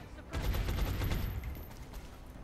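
Burst of suppressive assault rifle fire in XCOM Long War, a rapid volley of shots over about a second followed by fading echoes and quieter ambience.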